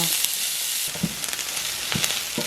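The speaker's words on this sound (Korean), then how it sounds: "팬에 오일 2큰술 둘러주고 썰어놓은 양파를 넣으시고요" Sliced onions fry in two tablespoons of oil in a pan, a steady close hiss with a few soft stirring scrapes and clicks breaking through.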